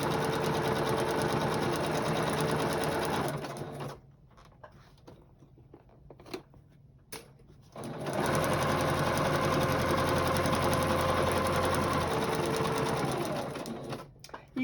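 A sewing machine runs a zigzag stitch along the edge of a fabric quilt organization board, a loud fast mechanical whir in two long bursts with a quiet pause of a few seconds between them.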